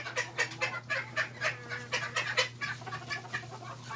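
Silkie chickens, white and black color mix housed together in one backyard coop, clucking in a busy overlapping chorus of short calls, moderately close, with a steady low hum behind them.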